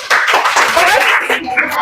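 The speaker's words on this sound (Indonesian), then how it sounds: "Oke, tepuk tangan dulu buat kita semua." Children clap their hands together in a classroom, a dense burst of quick, overlapping claps under talking voices that fills the short moment.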